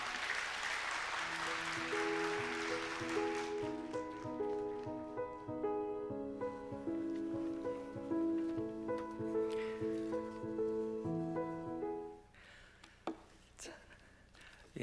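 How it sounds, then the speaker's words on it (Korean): A Korean church congregation at a special dawn revival service claps to welcome the pastor, the applause fading under sustained organ or keyboard chords, then quieter rustling and scattered sounds near the end. "우리 박수로 목사님을 환영하겠습니다"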